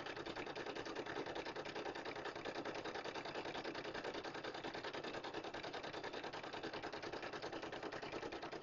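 Embroidery machine stitching a monogram through a topper on a towel, a steady rapid mechanical chatter that runs continuously at moderate level without pauses or voices.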